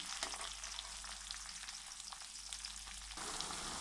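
Okra (bhindi) fries in a pan toward dark brown, giving off a quiet, continuous sizzle with small crackles and no talk.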